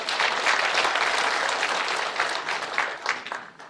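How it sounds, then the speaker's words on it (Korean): Audience applause fills the room at a union members' education session, dense and steady clapping from many hands sustained at an even loudness throughout, with no voices over it. "다시 한번 큰 박수"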